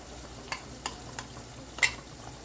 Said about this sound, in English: And then give it a good mix.